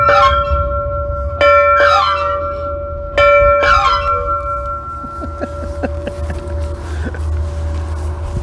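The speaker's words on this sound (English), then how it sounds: "Oh, look, a bell." A metal bell at a railroad museum rings out in two loud bursts of rapid clanging strokes, each decaying into a lingering tone, followed by softer scattered taps and background hum.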